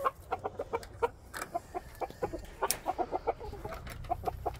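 Several chickens cluck in quick, irregular bursts close by, one squawking louder, with a low rumble underneath.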